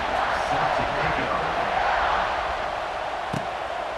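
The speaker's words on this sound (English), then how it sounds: "this crowd is feeling themselves after that last drive" Stadium crowd roar from EA Sports College Football 26 after a scoring drive, a steady dense wash of cheering with one sharp thud near the end.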